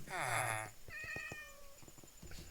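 A Minecraft cat meows twice, a long drawn-out cry followed by a shorter one, with faint clicks and background game sounds between them.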